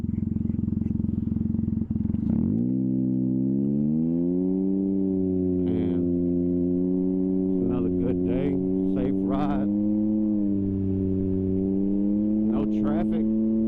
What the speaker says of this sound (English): The muffler sounded really loud this morning without my music playing.